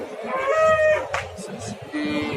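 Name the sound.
cattle mooing at a livestock market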